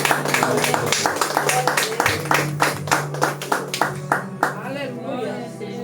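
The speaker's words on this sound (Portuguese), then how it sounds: "As palmas que louvem o Senhor" Church congregation claps rhythmically in praise during a worship service, a steady run of sharp, even claps with voices speaking and singing over them before the clapping thins out.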